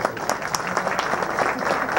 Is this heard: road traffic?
no